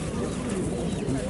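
Pigeons cooing at a pigeon and bird fair in Mykolaiv, low continuous cooing close by, with a busy crowd and voices underneath.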